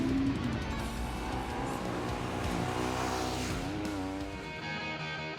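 Supermoto racing machines roar around a right-hand bend onto the finishing straight at Circuit Carole in France during sunny practice and qualifying, engines revving and shifting pitch as they pass, loud and close.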